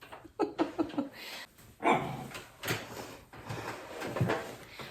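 A dog barks in short bursts nearby, several quick yaps followed by a few louder, drawn-out barks with pauses between.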